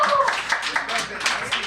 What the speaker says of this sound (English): round of applause for ska, right?